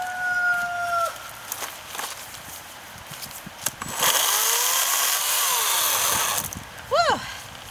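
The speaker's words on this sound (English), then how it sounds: "I love this chainsaw. I'm gonna cut some on that side here." An EGO CS1400 14-inch 56-volt battery chainsaw whines and revs up close while cutting wood, its motor rising into a loud sustained buzz, then dropping back down; a rooster crows faintly nearby.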